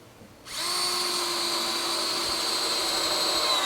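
A power drill drives 2-inch screws into wooden cross members of a guillotine-style pig trap door, starting abruptly and holding a steady, loud, high whine throughout.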